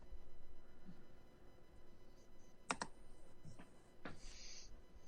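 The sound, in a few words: angry typing on a computer keyboard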